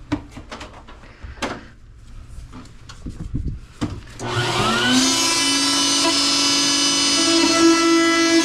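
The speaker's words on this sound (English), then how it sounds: "get the vacuum ready" After a few knocks and rattles of handling, a vacuum cleaner spins up with a rising whine and settles into a loud, steady roar, used while servicing a leaking ductless wall-mounted mini split air conditioner.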